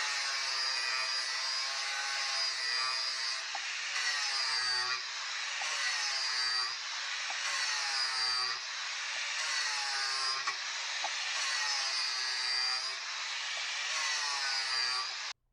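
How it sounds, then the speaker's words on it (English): An angle grinder fitted with a 30 grit flap wheel sharpens lawn mower blades held in a sharpening fixture, giving a loud, harsh abrasive whine that surges in repeated passes of roughly a second and runs continuously. "I sharpened the blades with an Amazon lawnmower blade sharpening fixture and an angle grinder with a 30 grit flap wheel."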